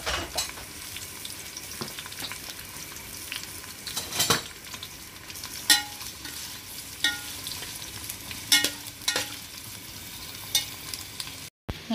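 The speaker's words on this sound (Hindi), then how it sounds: "अब मैं प्याज को ब्राउन करने के लिए मैंने चढ़ा दिया" Onions browning in oil in a pot over a high flame for biryani, a steady sizzle and crackle with occasional louder stirring clinks, close and continuous, with no talking.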